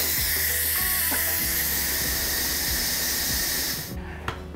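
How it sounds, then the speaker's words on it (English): An electric pressure cooker vents steam through its top valve after cooking baked ziti, a loud, continuous close hiss that holds steady for about four seconds, then cuts off abruptly, followed by a single click. "you turn the valve at the top and it releases all the steam"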